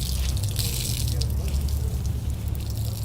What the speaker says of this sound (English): Now I'll take it out of the bucket and wring out as much of this dirty water as I can.